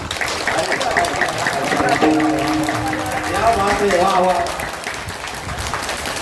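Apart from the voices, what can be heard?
audience clapping loudly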